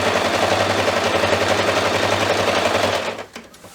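A sewing machine stitches steadily through all the layers of a quilt-as-you-go table runner, giving a fast, even mechanical whir close by that runs for about three seconds and then stops with a few small clicks.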